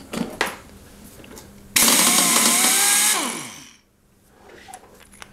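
A power tool buzzes loudly for about a second and a half while removing the flywheel nut from a Craftsman lawn mower, then winds down, with quiet workshop clicks before and after.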